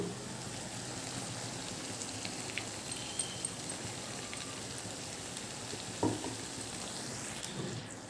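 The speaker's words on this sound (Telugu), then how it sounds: "వంకాయ కూడా లోపల కంట ఉడుకుతుంది అనమాట ఈ నూనెలో మగ్గుతుంది" Eggplant curry with masala frying in oil in a pan on a low flame, giving a steady soft sizzle with occasional faint clicks and a brief stir, no talk.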